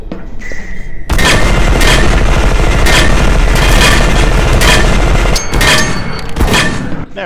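Gunfire tearing into a combat turret in E.Y.E. Divine Cybermancy: after a quiet start, a loud, dense burst of rapid shots and booming impacts runs continuously for several seconds, then trails off.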